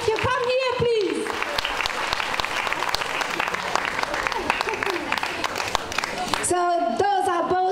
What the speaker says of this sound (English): So I want to make a big applause for them, please.